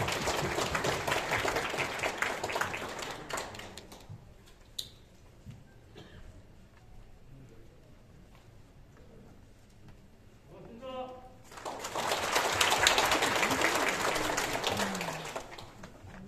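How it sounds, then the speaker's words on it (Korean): An audience at a formal ceremony applauds as a guest is called back to the stage. Broad clapping fills the opening seconds, fades into a quieter stretch with scattered sounds, then swells again into sustained loud applause near the end. "뜨거운 박수 부탁드리겠습니다"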